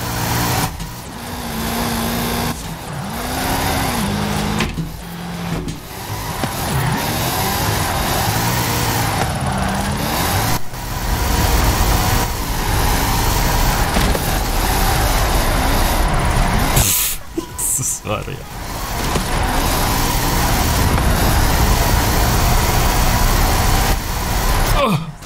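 S2-class car drifting in Forza Horizon 5 Hot Wheels, engine roaring loudly with shifting revs and tire noise for a long stretch, broken by brief dips, while someone talks over it.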